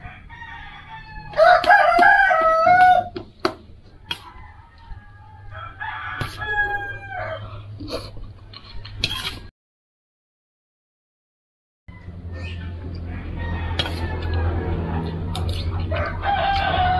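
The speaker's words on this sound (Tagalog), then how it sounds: "marami kaming alagang manok dito sa likod ng bahay." A rooster crows loudly several times nearby amid clucking backyard chickens, followed by a brief silence and then a busy farmyard background of more crowing and chatter.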